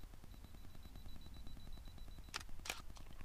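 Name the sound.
camera shutter firing on a 2-second timer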